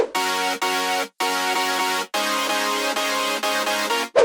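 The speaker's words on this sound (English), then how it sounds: "This is a simple chords, not too much extra, it's just adding some harmonies to the drop and warmthness." Simple bright synth chords adding harmony and warmth to an aggressive future house drop play in rhythmic stabbed blocks with short gaps, mid-level and clean without bass or voices.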